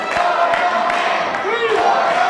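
Wrestling crowd at an indie show in Port St. Lucie, Florida, cheering and shouting to rally behind a tag team wrestler, a steady loud roar with rising yells throughout.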